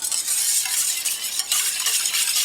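A spoon stirring homemade yogurt flavored with orange blossom water in a pot, a steady close scraping and swishing, continuous and fairly loud with no talking.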